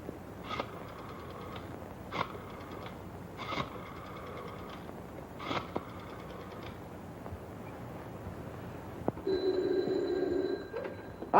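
An old-fashioned telephone bell rings in a 1930s detective film office, giving four or five separated bursts of ringing over a quiet, hissy background before a different tone appears near the end.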